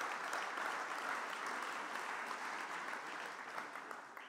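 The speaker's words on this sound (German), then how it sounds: "Ja, können wir ruhig mal klatschen." Audience applause at an annual event's opening, a dense, steady wash of clapping from many hands that holds at full strength for about four seconds and tapers only slightly at the end.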